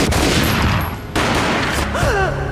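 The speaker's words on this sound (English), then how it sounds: "A gunshot boomed and she fell down in slow motion." Gunfire in the Max Payne video game, a dense, loud burst of overlapping shots with a booming low rumble that briefly drops out before continuing.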